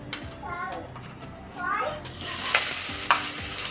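Onions drop into hot oil in a home kitchen pan for an egg masala, giving a sizzling, crackling fry that swells louder after being stirred, with someone talking in the background.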